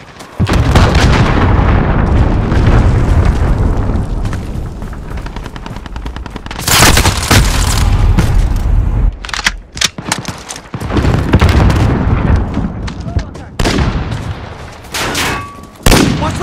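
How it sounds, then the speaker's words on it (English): In the Call of Duty: Modern Warfare video game, a cruise missile strike brings heavy, booming explosions amid dense rattling gunfire, loud and continuous with sharp blasts punching through the din. "Allied cruise missile launched."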